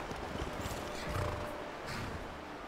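A horse in the video game Skyrim whinnies and clip-clops with hoof steps, heard briefly and fairly faint against a steady ambient backdrop.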